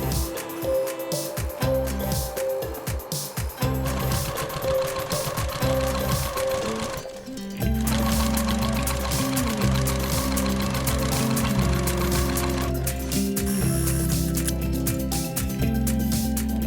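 A sewing machine quilting cross-hatch lines on a baby blanket, running in long continuous bursts of rapid stitching with brief pauses between passes, close and loud.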